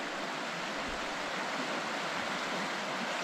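Lussier River flowing beside Lussier Hot Springs in Whiteswan Provincial Park, British Columbia, a steady soft rushing hiss of moving water, constant and fairly quiet.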